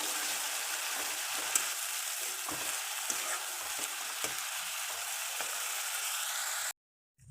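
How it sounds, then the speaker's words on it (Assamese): Onion paste frying in a pan for an Assamese onion fish curry, a steady close sizzle with scattered pops and occasional stirring scrapes, cutting off abruptly near the end. "এইখিনিও মই অলপ সময় ভাজি ৰাখিম"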